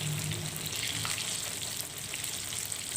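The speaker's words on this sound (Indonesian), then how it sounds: "Ini minyaknya benar-benar panas banget, jadi tempenya langsung mengapung di atas." Battered tempeh slices, five or six pieces, frying in very hot oil, giving a steady, loud bubbling sizzle throughout with no talking.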